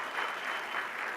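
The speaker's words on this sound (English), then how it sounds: "Could I get a round of applause for that?" Audience applause fills a conference room, a steady wash of clapping from a crowd, loud and continuous throughout with no talk over it.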